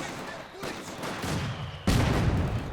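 Mortar and molotov fire bursts out in Company of Heroes 2: a few muffled booms and crackling impacts, with a sharper explosive hit near the end under a busy battle din.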